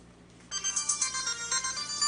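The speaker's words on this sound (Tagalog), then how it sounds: "Ba, ang cellphone ko." A cellphone ringtone starts abruptly and keeps playing as a bright, looping electronic melody in steady pulses, close and fairly loud, with no talk over it.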